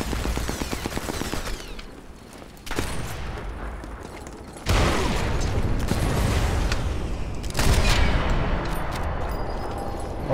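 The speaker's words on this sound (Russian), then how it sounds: "Выстрел в голову." Rapid bursts of gunfire in the video game Sniper Elite 4 crackle and boom in dense volleys, loud and close, with abrupt shifts in intensity and no voices.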